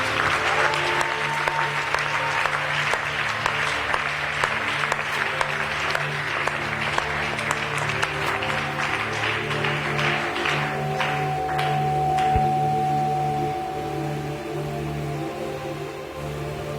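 A church congregation applauds loudly and steadily during a prophetic worship service, a dense, continuous clapping that holds strong for about twelve seconds, then thins slightly, with sustained keyboard tones underneath.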